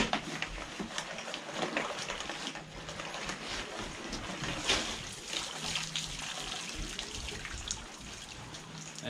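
A backpack dunked and sloshed in fresh water to rinse off sea salt after surf fishing, with steady splashing and watery churning throughout, close by and with no talking.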